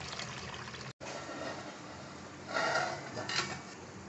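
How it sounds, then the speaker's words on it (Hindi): Soaked rice being washed with water for a Karachi-style beef biryani, giving continuous sloshing and pouring that cuts out for a brief moment early on, then swells louder in short surges toward the end. "अब इसको हम तकरीबन 3 से 4 पानियों से बार बार इसको धोएंगे"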